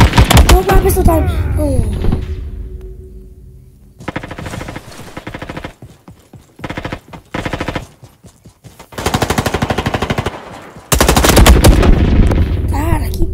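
Gunfire in the Roblox Call of Duty game, with bursts of rapid shots separated by short quiet gaps and a loud sustained burst near the end. A voice is heard at the start.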